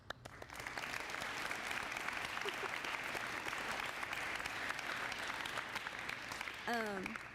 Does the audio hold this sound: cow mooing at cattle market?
no